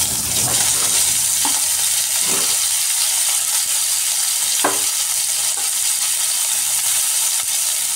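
Pre-fried cauliflower goes into a hot pan for a winter cauliflower, potato and soybean dish, frying with a steady, close sizzle while a spatula scrapes and stirs in occasional scraping strokes.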